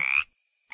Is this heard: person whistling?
no